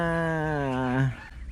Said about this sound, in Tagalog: daming bibi